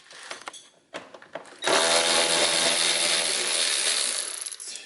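Ratchet work during a Ford Fiesta intercooler install, a few sharp mechanical clicks and taps followed by a sustained loud, harsh burst of tool noise close by, easing off toward the end.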